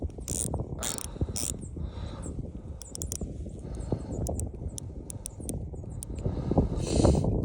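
Diving watch bezel rotated by hand outdoors, a run of small sharp ratcheting clicks at irregular spacing over rumbling wind and handling noise, close but not very loud.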